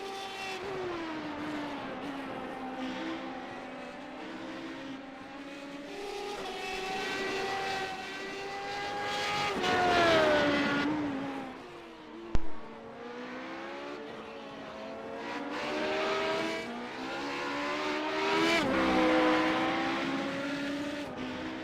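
A Radical SR8 race car lapping Silverstone through the Maggots and Becketts corners, its high-pitched engine rising and falling with gear changes and throttle, broken by a single sharp pop partway through.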